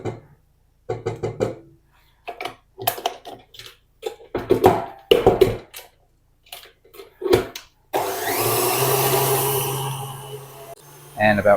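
An electric mixer whipping ginger buttercream for Christmas tree macarons starts up after several seconds of speech, a loud, steady motor whir that runs close and unbroken for the last few seconds.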